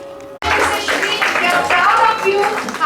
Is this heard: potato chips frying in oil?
no